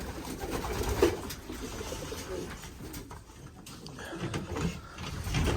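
Soft, low cooing from tumbler pigeons repeats in the background, steady and somewhat distant, with no voices.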